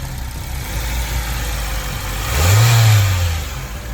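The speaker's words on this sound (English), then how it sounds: "So yes guys, this is the engine." The engine of a Hyundai Elantra idles steadily up close, then revs up once in a short rising surge before settling back down.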